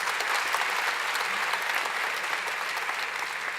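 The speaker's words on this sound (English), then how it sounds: "the soldering, I think, got a particular piece of applause there" Audience applause fills a conference hall at Inspirefest 2017, a dense steady clatter of many hands clapping, loud and continuous, fading only slightly toward the end.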